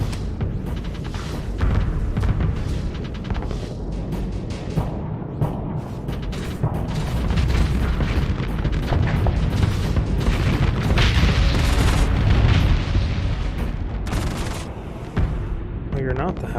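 Heavy cannon fire and explosions from a howitzer cannon in the space combat game Starsector, dense rumbling booms and blasts running continuously and loud throughout, with a voice talking over the battle.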